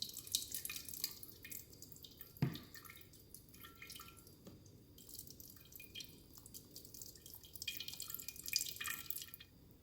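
Blended liquefied cucumber and water dripping through a wire mesh strainer in a kitchen, faint scattered drips and trickling with one sharper splash, no talking.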